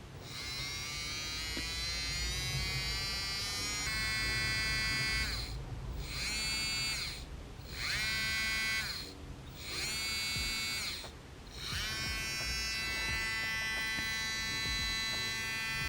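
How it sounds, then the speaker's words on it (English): Electric nail drill whining at high speed as it files a nub off an acrylic nail swatch, a steady buzzing tone that dips briefly several times as the bit bites into the acrylic, close and alone. "I decided to file off this little nub that I had on one of my acrylic swatches just to see how it ate through the acrylic"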